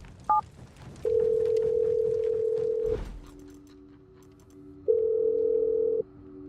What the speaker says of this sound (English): Now let's call this guy and see if he picks up the phone.